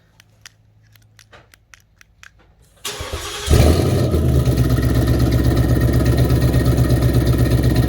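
Quiet clicks and small handling noises, then a warm 2019 Mustang GT V8 with Flowmaster active exhaust, valve closed, cranks and fires into a loud, deep, steady idle that keeps rumbling.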